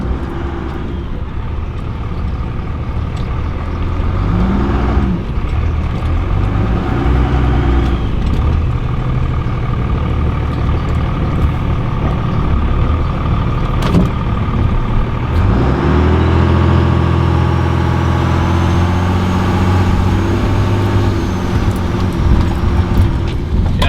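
Cummins-powered truck labouring forward in first gear, its heavy diesel engine revving and droning steadily throughout, with a rising rev near the end and no talk.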